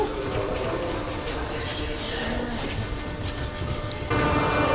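Kyiv metro train at a station, a steady rumbling roar with rail clatter and hiss, close and continuous, rising slightly louder toward the end.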